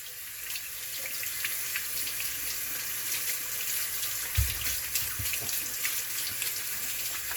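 Tap water running steadily into a sink while dried blackfish is washed, a continuous close splashing stream with a brief thud partway through, no voices.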